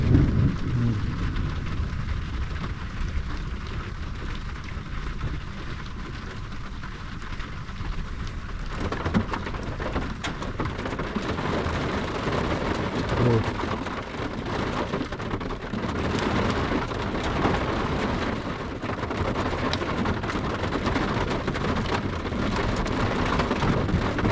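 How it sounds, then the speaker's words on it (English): Heavy rain pounds steadily around a campsite during a thunderstorm, with close lightning and rumbling thunder swelling partway through, loud and continuous with no talking. "Guess I'm getting my storm after all."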